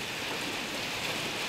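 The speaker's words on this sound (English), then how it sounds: "So you can maybe hear it's raining." Steady rain falls in a soft, even hiss, continuous and moderately close, with no other sounds breaking through.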